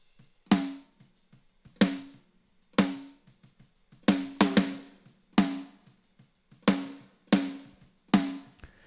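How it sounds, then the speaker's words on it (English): Snare drum hits processed with gated and plate reverb, struck singly and in quick pairs at an uneven groove, each crack followed by a short bright reverb tail that cuts off sharply, heard alone with no talk. "I have a gate reverb and a plate reverb"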